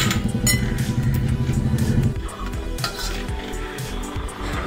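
Flour and dry ingredients are worked together with mango juice into a dough, giving steady rhythmic mixing and bowl-scraping sounds close by, louder for the first two seconds and then softer, with light clinks and no talking.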